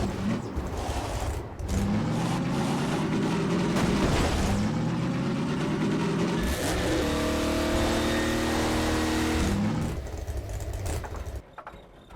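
The Jalopy car from the video game Half-Life 2 Episode 2 drives with a continuous engine drone that rises and falls as it revs and shifts, loud and close, fading briefly toward the end.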